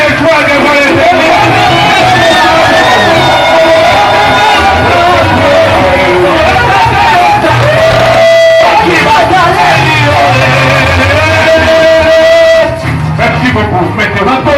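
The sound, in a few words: church congregation cheering and acclaiming in worship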